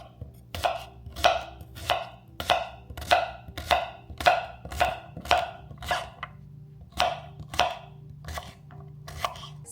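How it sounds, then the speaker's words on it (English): A knife slices cucumbers in a steady series of about fifteen crisp, evenly spaced cuts on a board, close and clear with no talking. "I'm going to just slice up some cucumbers and add those in"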